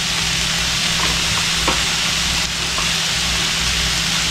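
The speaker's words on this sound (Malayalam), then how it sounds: "നമ്മൾ ചതച്ചെടുത്ത മുളക് പൊടി നന്നായിട്ടൊന്ന് മൂപ്പിച്ചെടുക്കുക." Sliced onion, crushed chilli and turmeric fry in a hot pan, giving a steady, close sizzle with faint crackles and the odd stir, with no talking over it.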